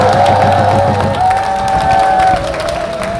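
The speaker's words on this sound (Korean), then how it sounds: "조용하게 대한민국을 지켰던 김종호 청주 사람에게 박수 한번 보내주십시오." A crowd at a political rally in Cheongju claps and cheers loudly, with shouts and whoops riding over the clapping and a voice carrying through the noise.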